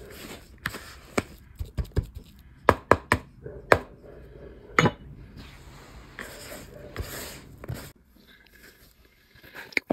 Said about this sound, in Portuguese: Vou ter que misturar aqui essa massinha com a mão.